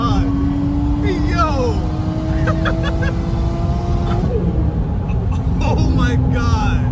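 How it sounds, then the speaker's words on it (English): A turbocharged Toyota Chaser revs hard during acceleration pulls, its engine note climbing steadily in pitch, breaking at gear shifts, then climbing again, loud and close from inside the car while someone talks excitedly over it. "Do y'all hear the turbo?"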